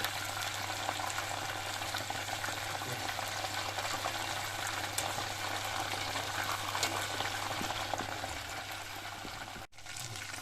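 KFC-style breaded chicken deep-frying in hot oil, a steady close hiss and crackle of bubbling fat that runs unbroken, with a low hum beneath and a brief dropout near the end.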